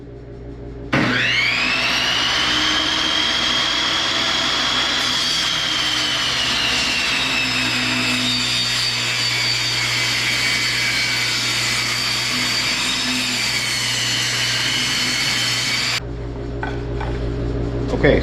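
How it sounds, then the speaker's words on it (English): A table saw rips wood boards lengthwise, its motor spinning up to a loud, steady whine that holds for about fifteen seconds as the blade cuts, then drops away as the cut ends and the saw winds down. "now I will rip the 3 pieces right down the middle"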